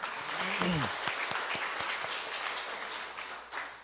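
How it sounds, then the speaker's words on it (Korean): Church congregation applauding during a Sunday sermon at Jesus Tree Church, a dense steady clapping that fills the space at moderate level, with a brief voice near the start. "박수 한번 해주시죠."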